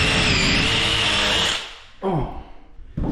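A power drill whines steadily and loudly while boring screw holes for cabinet handles, then spins down and stops, followed by brief clatter and a short burst.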